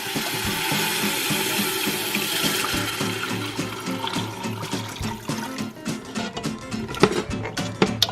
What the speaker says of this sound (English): Then I can add our water.